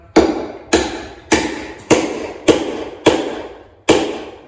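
Wooden pegs are hammered into a draw-bored tenon joint on a workbench: seven sharp, loud hammer strikes land at a steady, unhurried rhythm, each ringing briefly before decaying.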